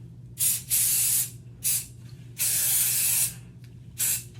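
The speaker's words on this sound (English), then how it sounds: "We're gonna do hairspray." Hairspray misted onto hair in five loud, close bursts of hissing spray, some short and some long, separated by brief silences.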